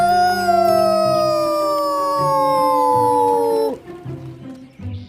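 A single long wolf howl, loud and close, slides slowly downward in pitch and breaks off abruptly, followed by softer low growling or grunting sounds.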